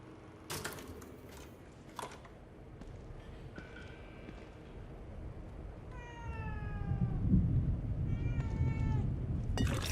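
Several cat meows from the video game The Evil Within 2, short harmonic calls spaced through the clip over a rumbling game ambience that grows louder toward the end, with no talking.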